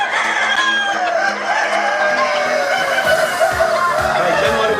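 Roosters and laying hens on a poultry farm, crowing and clucking continuously at close range amid steady farmyard background noise.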